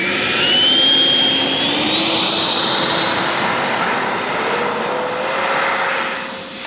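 A Freewing RC jet plane's turbine engine roars loudly during takeoff from a 17-foot-wide runway, a sustained whooshing whine whose pitch climbs steadily as it spools up, with no voices.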